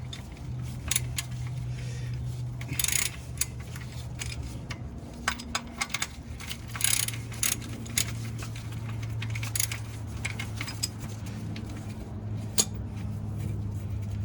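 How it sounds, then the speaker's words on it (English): Metallic clicks and clinks from a ratchet removing bolts on a Honda Civic lower engine mount, with short bursts of ratcheting and clatter over a steady low hum. "We'll remove these two bolts here."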